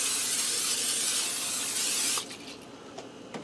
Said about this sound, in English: in a 9x13 baking pan, I'm going to spray a little bit of canola spray in there